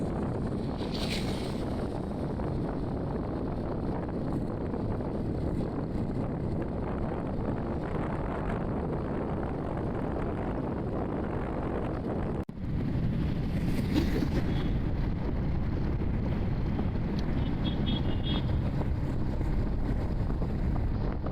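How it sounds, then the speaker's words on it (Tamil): Strong wind buffets the microphone outdoors at a temple chariot festival in Anthiyur, a constant loud rumbling roar that runs without pause, with a brief dip midway. "காற்று அதிகமாக இருக்கும்"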